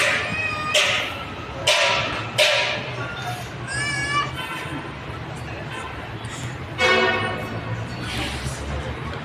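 A house cat meows several times in drawn-out calls amid a lively home in Damascus with a small child. Children's voices and play noise run throughout.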